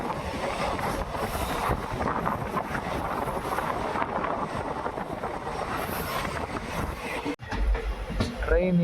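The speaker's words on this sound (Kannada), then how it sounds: "ಸೇತುವೆ ಮೇಲೆ ಟ್ರೈನ್ ಹೋಗ್ತಾ ಇದೆ" A train crossing a bridge over a river swollen with water near Nanjangud, a steady loud rumble with a clattering wheel rhythm and some wind buffeting, continuous throughout and heard from on board.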